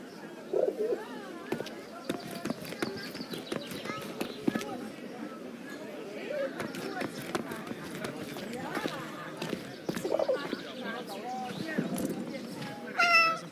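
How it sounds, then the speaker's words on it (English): A cat meows in the video game 11-11 Memories Retold, several short soft meows scattered among ambient noise and fluttering sounds, while voices speak over much of it. "I couldn't believe Kurt still had that cat"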